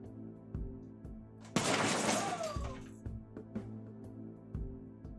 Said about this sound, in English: I also didn't expect it to do that. To shatter in such a way.